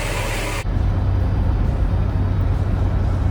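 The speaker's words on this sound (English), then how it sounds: "So I'm out driving" A 1975 Chevrolet El Camino driving, with a steady, loud low engine and road rumble. A brief burst of broadband wind or hiss sits at the very start, then the drone continues evenly on its own.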